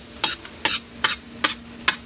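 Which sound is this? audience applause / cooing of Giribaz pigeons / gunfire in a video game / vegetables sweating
vegetables sweating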